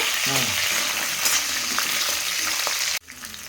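Green chillies fry in hot oil with a steady, close sizzle and a few faint clinks from stirring, then the frying cuts off abruptly near the end.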